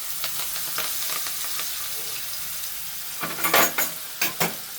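Cumin, turmeric and green onion go into hot oil over a high flame for chow mein noodles, giving a soft steady sizzle, then sharper bursts of frying and stirring clatter near the end.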